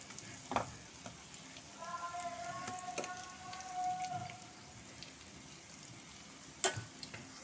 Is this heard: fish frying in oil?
yes